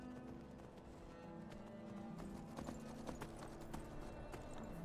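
A horse's hooves clip-clop in the Skyrim video game, trotting in a steady, fairly quiet rhythm against soft in-game ambience.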